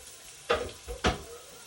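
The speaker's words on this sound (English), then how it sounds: "So we're gonna throw our chops down." Pork chops drop into a hot pan with two sharp, loud bursts of sizzling about half a second apart, then a steady low frying crackle between and after them.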